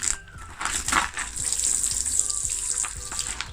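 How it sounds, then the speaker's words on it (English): Water pours gently from a watering can onto freshly sown seeds in a pot at a horticultural centre, a soft steady trickle with light splashing and a few small knocks. "give it another little water"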